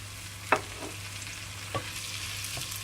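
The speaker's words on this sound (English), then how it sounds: "Now we've got everything cooking in the frying pan" Vegetables, including chunky roasted capsicum, fry for a frittata in a frying pan with a steady close sizzle, punctuated by a few scraping stirs of a utensil.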